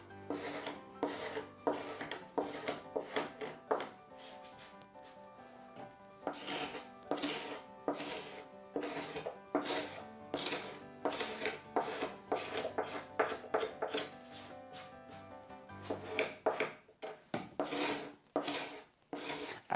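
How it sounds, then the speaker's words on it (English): Card scraper drawn across an old wooden door during restoration, giving repeated rasping strokes in quick bursts with short pauses between, close and fairly quiet, with no talking. "I should probably sharpen the card scraper again."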